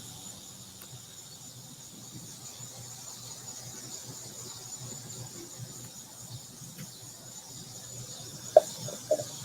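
Crickets keep up a continuous high-pitched chirring drone at moderate volume, with a couple of sharp squeaky sounds near the end.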